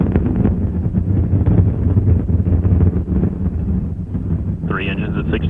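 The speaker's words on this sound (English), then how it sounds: "Engine throttling down now to maintain a certain speed as the spacecraft passes through max Q." Space Shuttle Discovery's engines roar during launch as they throttle down, a heavy, buffeting rumble like gusting wind that swells and fades, with a brief radio-like tone near the end.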